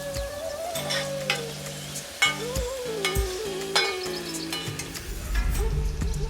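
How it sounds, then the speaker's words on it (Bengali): Garlic frying in a pan for a Bengali bhorta, a steady sizzle with occasional stirring scrapes, heard beneath a music track. "আমাদের রসুনগুলোকে একটু ভাজা ভাজা করে নিতে হবে"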